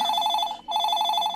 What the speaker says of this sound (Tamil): போய் ஃபோன் எடு.